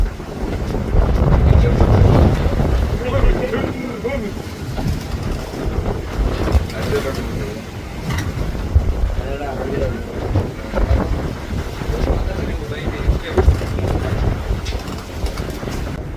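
A fishing company boat is underway at sea in wind and waves, its steady low engine rumble and buffeting wind filling the whole stretch, with no talk over it.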